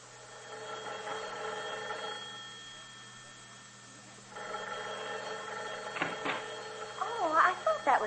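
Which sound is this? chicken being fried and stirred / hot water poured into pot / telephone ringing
telephone ringing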